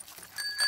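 A bicycle bell on a cartoon pig's bike gives short bright rings, two quick dings near the end of a very brief moment, clear and close.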